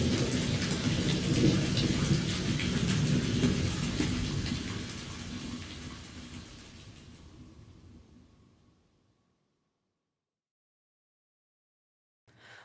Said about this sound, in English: The rain came in a deluge, isolating them in a wall of water